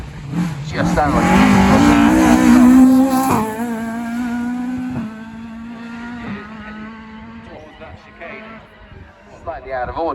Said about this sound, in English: Andrew Hutchinson, Joe Hutchinson in their Clio car.